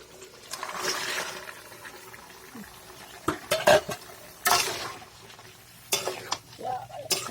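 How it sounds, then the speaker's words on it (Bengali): Chicken fries and gets stirred in a pan, a soft sizzle under scattered sharp clanks and scrapes of a spoon against metal, close and moderately quiet. "মাংস দিয়ে ভালো করে ভাজি করে দিয়ে দেবো শিম।"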